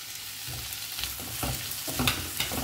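Tomatoes hitting hot oil with squid chilli masala in a pan, a close crackling sizzle with a few stirring scrapes over a short stretch.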